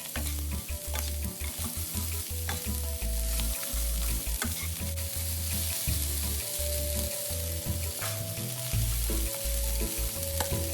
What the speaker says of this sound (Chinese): 接着高丽菜丝也加入一起拌炒